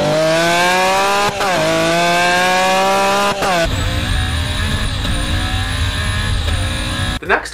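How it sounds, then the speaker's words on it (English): A twin-turbo Lamborghini Aventador screams through rising revs with sharp gear changes, loud and close, then shifts to a rougher lower roar with turbo whine above it. "one of just a small handful of twin turbo Aventadors out in the world. If you don't know what those sound like, here's a couple of videos."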